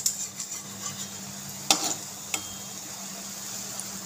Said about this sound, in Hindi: तो दोनों साइड से मुझे ऐसे ही गोल्डन करना है सारे पीसेस को, ये अच्छी तरह से ताकि फ्राई हो जाए।